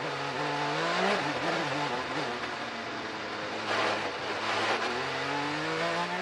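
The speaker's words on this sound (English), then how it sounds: "Listen to the throttle application" A race car engine at a motor race rises and falls under throttle, a loud, sustained whine that swells as the car accelerates, heard at a distance behind commentary-like crowd noise.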